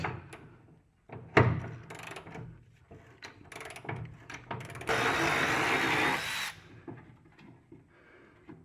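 A power tool works a lower fender bolt on a squarebody 4x4 truck, with short clanks and bursts of tool noise, then a sustained whir lasting a couple of seconds, close and fairly loud.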